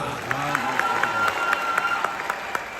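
Applause from the audience at a comedy show in Côte d'Ivoire, steady crowd clapping throughout with a voice carrying over it.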